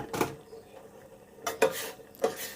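A few quiet clinks of a utensil against a pot as cucumber is added to boiling Thai sour curry soup with pork leg, three separate taps spaced apart over a faint background.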